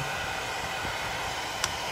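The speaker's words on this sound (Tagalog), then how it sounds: "gagamitan natin ang blower. Hot air pala, hot air ang tawag dito." A hot air blower heating a battery cover so it will fit, giving a constant, even whooshing hiss close by, with one small sharp click near the end.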